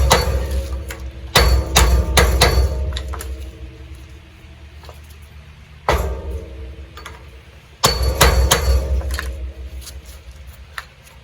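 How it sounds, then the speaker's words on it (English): Bursts of rapid metallic hammer taps on a small metal trailer wheel hub cap, several quick strikes in clusters separated by pauses, loud and close. "Just hammer in a circle."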